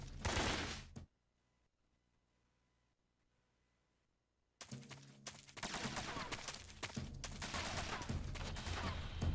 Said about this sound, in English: Bro, what are you shooting at?